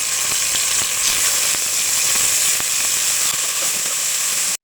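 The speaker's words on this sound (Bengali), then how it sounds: "এর ভিতরে দিয়ে দেবো ম্যারিনেট করে রাখা মুরগির মাংস।" Marinated chicken frying in hot oil with ginger and garlic, a loud continuous hiss and sizzle that runs steadily throughout, then cuts off abruptly at the end.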